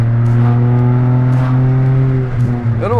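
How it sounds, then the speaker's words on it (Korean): Small tuned light car with an engine that holds a steady, loud droning note for several seconds, then rises and wavers as the revs shift near the end, close to the microphone. "이 자동차는 아무리 그렇게 소리가 요란스럽대로 해도 절대 과속하고 있지 않은 거예요."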